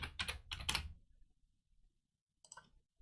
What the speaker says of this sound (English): Type it once again, the password.